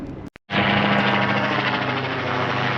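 A loud, steady helicopter roar with a deep rotor hum begins abruptly after a brief gap and stays close and constant.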